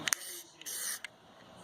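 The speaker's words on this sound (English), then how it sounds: "here I'm going to come in from the side and catch these" A Plasti Dip spray can fires short hissing bursts at a Jeep Compass emblem, two quick spurts and then a longer spray of about half a second, close and fairly quiet.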